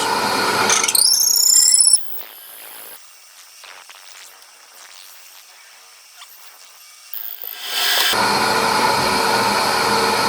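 A wooden pen blank is drilled with a power tool, giving a loud machine whine that stops abruptly. Quieter clicks and handling noises follow, then the motor starts again with a steady drone near the end.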